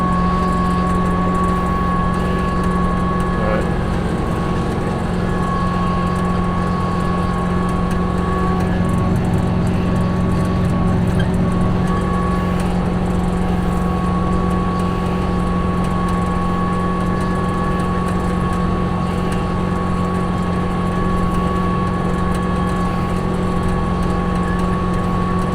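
A White 4-210 tractor pulls a chisel plow, its engine a steady, loud drone with a constant hum that runs unbroken the whole time, with no voices.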